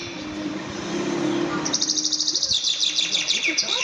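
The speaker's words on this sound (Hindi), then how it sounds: "आपको हम सुनाते हैं कि बर्ड्स किस तरह से सुबह सुबह चहचहाती और गाती है।" Birds chirp and sing in the morning with rapid, repeated high tweets that start partway through and continue close and clear over a soft background hiss.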